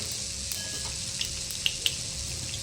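Mustard seeds crackle in hot oil in a pan while stuffed okra is being prepared, a soft steady sizzle broken by a few sharp pops near the end.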